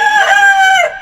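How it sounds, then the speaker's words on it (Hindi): A rooster crows once, loud and close: a single drawn-out, tonal cock-a-doodle-doo that falls away at the end. "जो मुर्गा ने आवाज लगाई"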